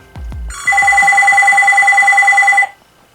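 A phone rings loudly nearby, its call placed through Bluetooth earbuds, with a steady electronic two-tone trill lasting about two seconds, preceded by a few soft taps and knocks.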